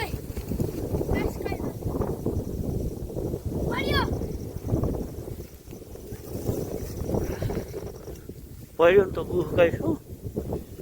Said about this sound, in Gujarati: એ વાયરો પણ કેવો આવે છે